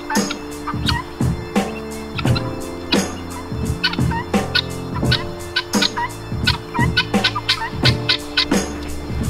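Guinea fowl calling in a farmyard, a rapid run of harsh, rhythmic cackling notes repeating without pause, fairly close and loud, several birds overlapping with no talk.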